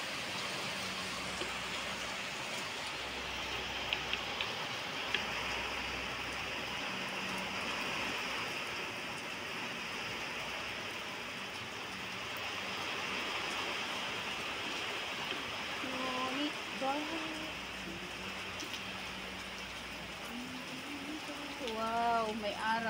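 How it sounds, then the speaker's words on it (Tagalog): Heavy rain falling outside, a dense steady hiss of drops on surfaces that carries on throughout, with brief tonal sounds near the end. "Wala, grabe ang ulan."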